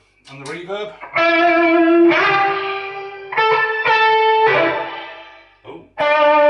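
Electric guitar through a reverb pedal on a pedalboard: loud sustained notes ring out one after another, each swelling and decaying into a washy tail, with brief gaps between phrases.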